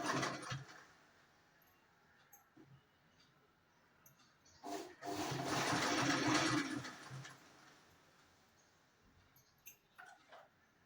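A pico sewing machine attaches a fall to the edge of a saree, running in a loud whirring burst of about two seconds between quiet stretches with light clicks and handling noise.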